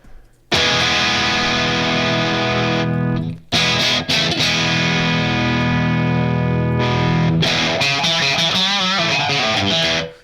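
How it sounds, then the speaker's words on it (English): Electric guitar played through an effects preset on a UAD Paradise unit, its heavy gain driving the amp into thick distortion, sustained chords ringing in two long blocks with a brief gap, then a wavering, modulated passage to the end. "That's adding quite a lot of gain. It must be driving the amp."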